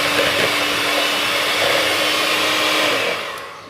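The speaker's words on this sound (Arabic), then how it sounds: "داكشي ندير نخلط كلشي بالباتور" Electric hand mixer beating lemon shortbread dough, a loud steady whir close by for about three seconds, then it winds down, with no talk.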